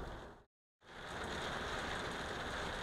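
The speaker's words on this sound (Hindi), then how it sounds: "अभी जो है बारिश की रफ्तार जो है काफ़ी तेज़ हो चुकी है।" Heavy rain falls at night in Taif, a dense steady hiss after a brief silent gap at the start, loud and continuous with no voices.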